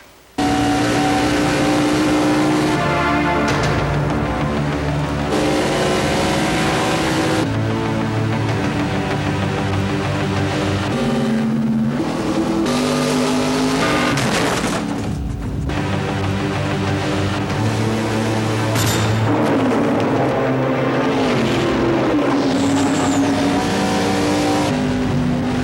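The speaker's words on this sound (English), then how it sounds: "Stock car racing." Stock cars race past close by, engines roaring and revving loudly without pause, with shifting pitch as cars accelerate, pass and sweep through corners, and a brief tire squeal near the end.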